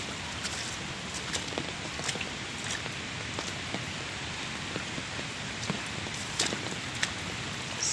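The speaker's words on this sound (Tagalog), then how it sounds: "And it is still raining." Steady rain falling during a typhoon on a farm, a dense even hiss with scattered nearby drips and splats on surfaces, continuous throughout.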